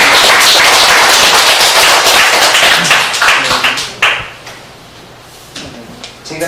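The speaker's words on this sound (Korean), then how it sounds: "다시 박수로." An audience at a talk on Korean pungryudo applauds with loud, dense clapping that thins out and fades into a few scattered claps by the end.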